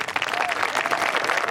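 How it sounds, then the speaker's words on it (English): An audience at a National Honor Society induction ceremony applauds the new members with dense, steady clapping throughout. "Please join me once again in applauding all of our new Honor Society members."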